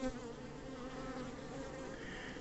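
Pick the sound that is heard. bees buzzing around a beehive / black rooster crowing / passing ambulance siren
bees buzzing around a beehive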